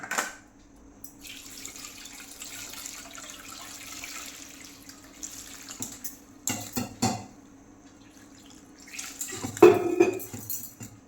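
Steamed soya chunks being rinsed in clean water in a kitchen, with soft intermittent splashing and dripping, then louder bowl-and-water handling clatters toward the end.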